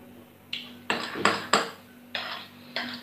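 A spoon mixing yellow aquafaba biscuit dough in a bowl gives about six separate scraping clinks, close and moderately loud, with no talk.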